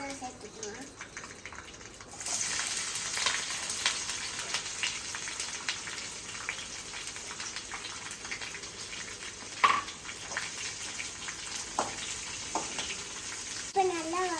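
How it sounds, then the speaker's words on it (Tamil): Onions and green chilies sautéing in a hot pan, a continuous close sizzle with faint stirring scrapes, steady and moderately loud after a quieter start. "இப்போ நல்லா வதக்கிக்கோங்க."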